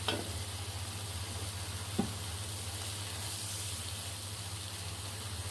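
Sliced yiyo is added to a wok with white radish for a stir-fry, giving a steady close sizzle, with a clatter at the start and another sharp knock partway through.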